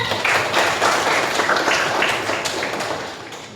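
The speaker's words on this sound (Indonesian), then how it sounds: "Berikan tepuk tangannya" Students in a classroom clap for classmates, a dense burst of many hands clapping close by that holds steady for a few seconds and then tapers off at the end.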